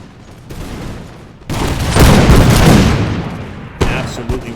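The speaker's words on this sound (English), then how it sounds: "Give them a full volley." Musket volleys crash out in the Imperial Splendour game, a brief crack followed by a loud, rolling wall of massed gunfire that swells and fades, then a few scattered later shots.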